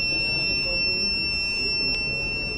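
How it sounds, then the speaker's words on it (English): A motion-sensor buzzer on a solar-powered crop-protection fence sounds a steady high-pitched electronic tone, continuous and fairly faint over a low background hum, with one brief sharper blip partway through; no one speaks. "buzzer giving a noise alert"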